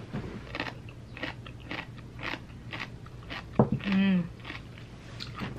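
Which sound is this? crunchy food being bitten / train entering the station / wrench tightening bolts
crunchy food being bitten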